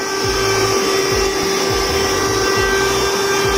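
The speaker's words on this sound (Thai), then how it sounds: "เราสามารถใช้เจ้าเครื่องดูดฝุ่นเป็นที่เป่าลมได้นะ เพราะว่าอีกด้านหนึ่งมันจะสามารถเป่าลมได้นะครับ แบบนี้นะครับ" A small cordless car vacuum cleaner works as an air blower, giving a loud, steady motor whine with a high tonal hum and some uneven low rumbles.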